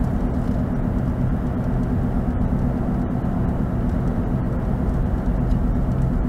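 A steady, loud hum of a car's engine and road noise from inside the vehicle while driving along Dawson Road in Albany, Georgia, with no breaks throughout.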